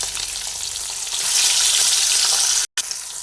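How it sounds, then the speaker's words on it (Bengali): Rui fish frying in hot oil, a loud continuous sizzle that swells halfway through, with a brief cut near the end before the crackle resumes. "আর একটা মাছ ভেজে নিই"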